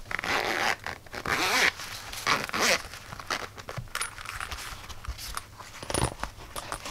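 A zipper on the carrying bag of an Aneng 613 digital multimeter is pulled open in several quick, close rasping strokes, followed by soft rustling and handling clicks.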